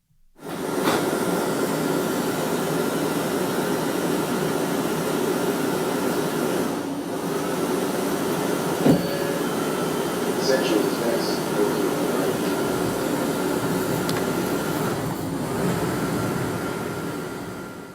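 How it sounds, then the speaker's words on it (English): Interior of a Boston MBTA subway train in winter: a loud, steady rumble and roar of the moving car for the whole stretch, with a few brief clanks and squeals over it and voices faintly in the background. "That is our MBTA subway in the winter."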